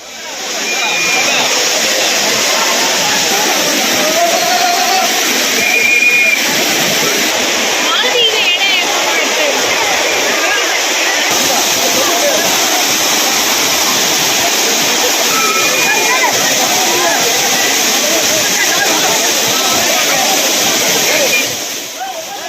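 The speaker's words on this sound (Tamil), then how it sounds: "பிரதான அருவியான குற்றாலம் மெயினருவி, ஐந்தருவி, புலியருவி, சிற்றருவி, பழைய குற்றாலம் உள்ளிட்ட அருவிகளில் தண்ணீர் வரத்து அதிகரித்து காணப்படுகிறது" Heavy flow at Courtallam's main waterfall, a dense, steady roar of crashing water that runs loud and unbroken from start to finish with splashing texture throughout.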